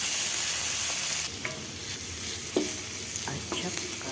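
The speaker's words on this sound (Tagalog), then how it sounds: "Gisa-gisa muna tayo nito. Luya at sibuyas, bawang, tapos kamatis." Ginger, onion, garlic and tomato sautéing in a pan for ginataan tilapia, a loud steady sizzle at first, then a softer fry broken by scattered clinks and scrapes of stirring, with no talking.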